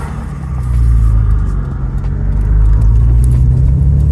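A Nissan Z31 engine hums steadily from inside the cabin, a loud continuous low rumble that swells slightly as the car drives on.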